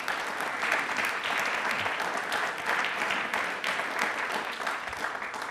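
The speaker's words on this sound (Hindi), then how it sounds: "तालियां प्लीज एक बार जोरदार बनती हैं इनके लिए" A studio audience breaks into sustained, dense applause honoring an air force squadron, steady and loud throughout with no break.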